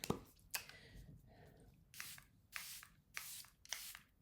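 Five quick bursts of hissing Charlotte Tilbury setting spray misting, evenly spaced over a few seconds, close and fairly loud against a quiet background.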